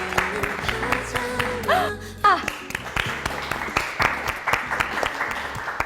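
Studio audience on a K-pop talk show claps briefly ahead of the first live song, with scattered sharp claps and cheers mixed among hosts talking over them.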